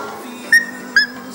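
A 12-year-old boy imitating a dog with two short, high yelping whimpers spaced about half a second apart, close and clear over a low steady hum.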